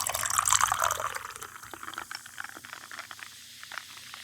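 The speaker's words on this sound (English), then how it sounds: "Oh, you're going to pour the drink." Beer poured into a glass, a close, bright liquid splash at first that settles into a fizzing, crackling trickle with scattered small pops.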